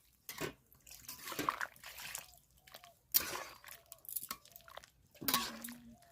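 Pieces of meat are washed in a bowl of water, producing intermittent sloshing, splashing and squelchy handling bursts separated by short pauses, close up.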